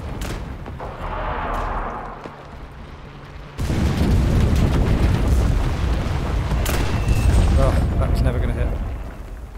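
Bombs blast in the WWII shooter Enlisted, a loud sustained rumbling barrage that kicks in sharply partway through after a quieter stretch of distant battle noise, with voices under it.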